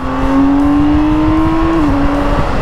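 A 2022 BMW K1600 motorcycle engine revs hard and close, its pitch climbing smoothly and then dipping slightly as the throttle eases.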